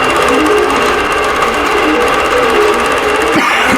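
An embroidery sewing machine stitches an appliqué quilt block, a steady, loud, continuous mechanical whir with a fast needle rhythm running throughout, briefly shifting near the end.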